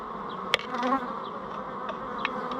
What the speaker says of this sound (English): And there's bees flying out.